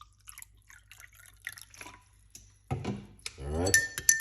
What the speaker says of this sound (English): get your water and pour it in like this.